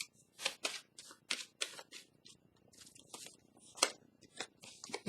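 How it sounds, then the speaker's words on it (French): Crisp papery shuffles and snaps from a tarot card deck as a new card is drawn, several quick close-up rustles in succession, quiet and alone without talk. "je vais piger une nouvelle carte"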